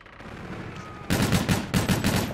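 Video game weapon fire during a mission round: after a quiet stretch, loud rapid bursts of gunfire start abruptly and keep going in repeated automatic volleys.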